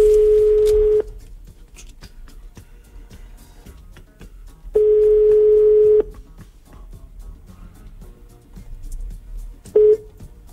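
A phone line tone sounds in long, even bursts with quiet gaps between them, ending in a short final beep, like a call ringing out.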